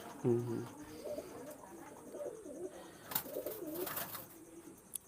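Pigeons, including running pairs of large-sized breeds, coo softly in a loft, low murmuring calls rising and falling with some sharp clatters of movement, faint overall.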